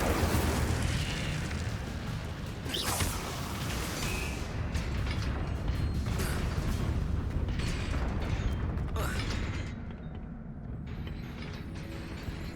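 Incendio fire spell cast in Hogwarts Legacy, a loud roaring burst of flame with rumbling, crackling bursts that sustain for several seconds before tapering off.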